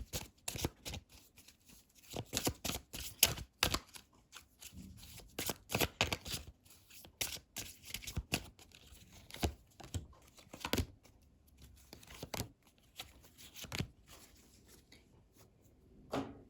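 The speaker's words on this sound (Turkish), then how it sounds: "Şimdi şu kartlardan çekmek istiyorum." Tarot cards are shuffled and drawn in a quiet room, a close series of quick papery riffles, slides and soft flicks coming in irregular bursts with short pauses between them.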